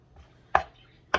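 A knife chops fresh cilantro on a crowded cutting board, two sharp separate chops about half a second apart, close and clear in a quiet kitchen.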